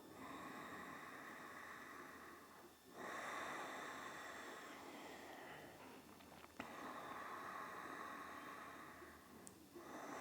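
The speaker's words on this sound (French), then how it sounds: "Trouvez la respiration Ujjayi, la respiration sonore." Slow, steady Ujjayi yoga breathing during an Ashtanga session: long, faint, hissing inhales and exhales, close to the microphone and alone, with a soft click near the end.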